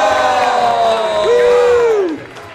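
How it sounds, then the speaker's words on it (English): A bar crowd erupts in loud cheering and whooping, one long rising-and-falling voice standing out above the rest before the noise drops off near the end. "Can we give him a round of applause when he runs into the cans?"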